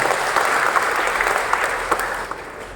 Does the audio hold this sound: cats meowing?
no